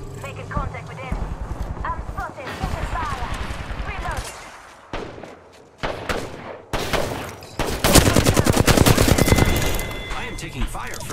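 Rapid bursts of gunfire and weapon shots in a battle-royale style video game, loud and repeated, mixed with game voice lines and other effects.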